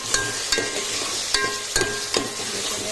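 Tomatoes and onions fry in a pan for a Goan mushroom masala, giving a steady close sizzle broken by about five sharp spatula knocks against the pan.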